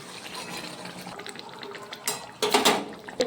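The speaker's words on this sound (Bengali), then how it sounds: "গরম জল দিয়ে দিলাম।" Hot water is poured into a pot of mutton curry as it cooks, a steady gurgling splash that swells into a louder rushing burst near the end, close up with no talking.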